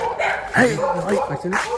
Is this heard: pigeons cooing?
no